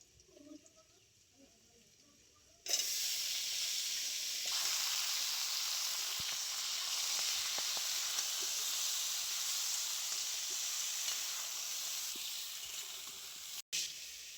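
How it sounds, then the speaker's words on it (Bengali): Malabar spinach stalks are frying with potatoes, salt and turmeric in a pan. The sizzle starts abruptly after a quiet opening and holds as a steady, close hiss, broken only by a brief cut near the end. "একই সাথে এবার আমি পুঁই ডাঁটাটাও কষিয়ে নেব।"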